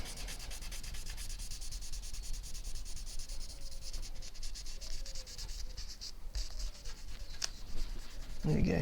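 Steady abrasive rubbing of 320-grit sandpaper across a stained, lacquered PRS-style guitar finish, continuous and close, with a few faint background tones and a brief knock at the end.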